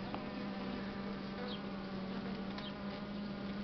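Buckfast honeybees buzz around a nucleus hive with a steady low drone and a few brief higher whines as individual bees fly close, faint and continuous without speech.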